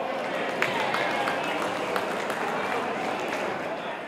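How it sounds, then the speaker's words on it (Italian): Dense, sustained applause from a crowd at a bank members' festival in Fano, a steady wash of clapping held at an even level throughout, with voices in the background. "Allora, un applauso anche a loro."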